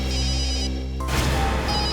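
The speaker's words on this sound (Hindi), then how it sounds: "सालुंखे साहब का ही फोन है" A telephone rings loudly with a steady electronic tone for about a second, then cuts into a noisy crash-like clatter that fills the rest of the moment, with no talk.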